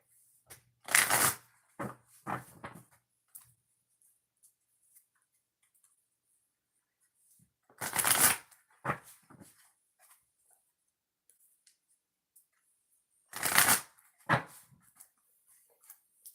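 Three separate bursts of tarot cards being shuffled for a reading, each a quick riffling flutter followed by a few soft taps, with quiet gaps in between.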